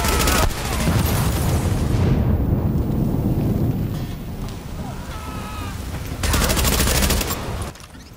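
Heavy automatic gunfire in Tom Clancy's The Division, loud sustained bursts that open and close the stretch with a rumbling, quieter lull between them.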